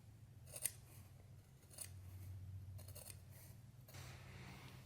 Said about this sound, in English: I'm keeping that bottom part of the scissors pressed up against underneath, so I'm not cutting into too much of that wool.